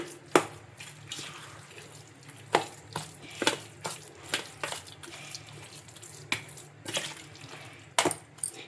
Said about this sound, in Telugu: ఇంకా ఇప్పుడు స్పూన్ తోటి బాగా కలిపేసుకుందాం.